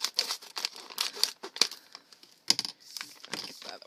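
Package of paper clips being torn and crinkled open, a series of sharp plastic crackles and rips in uneven bursts, close and fairly loud, with no voice over it.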